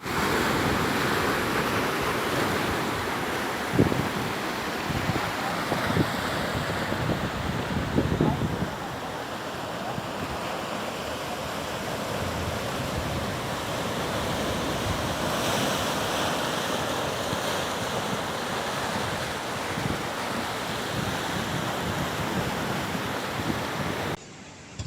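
Atlantic Ocean waves wash onto the shore in a continuous, loud roar of surf with wind noise, rising and falling steadily throughout.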